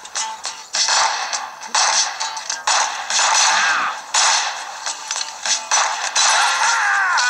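Rapid cartoonish gunfire and clattering weapon effects from the Western shooter game Six-Guns on Android/iOS, loud and continuous bursts of crackling shots without speech.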